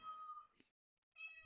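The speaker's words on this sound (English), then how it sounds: "Sorry if you can hear a cat in the background." A cat meows twice in the background, short tonal cries split by a brief silence, fairly faint and heard on its own without talk.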